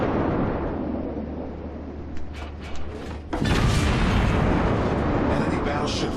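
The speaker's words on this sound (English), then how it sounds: "He's getting hit by HE shells about every 3-4 seconds." Heavy booming blasts of HE shells striking a ship in World of Warships, a deep rumbling bed with sharp impacts, the loudest hitting near the middle and the rumble continuing afterward.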